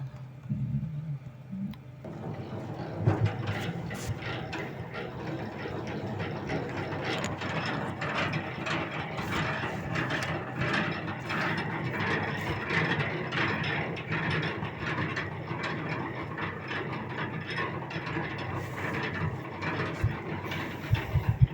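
An empty homemade radial 14-frame honey extractor spins with a continuous mechanical clatter of gears and ratcheting rattles, steady and close for about twenty seconds.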